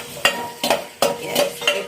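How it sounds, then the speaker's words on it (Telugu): Tempering of mustard seeds, cumin, curry leaves and onions in hot oil, with a steady sizzle broken by several sharp stirring scrapes at a regular rhythm, close and fairly loud, with no talking. "కొంచెం ఆయిల్, ఆవాలు, జీలకర్ర, కరివేపాకు, కొన్ని ఆనియన్స్ వేసి ఆయిల్లో ఇలా ఫ్రై చేసుకోవాలి"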